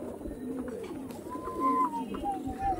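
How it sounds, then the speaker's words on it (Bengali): A tournament-flying Lambadi pigeon coos softly in a few low, throaty, rolling phrases, close by against a murky background of faint ambient noise. "দেখুন অরিজিনাল লাম্বাডি পায়রা"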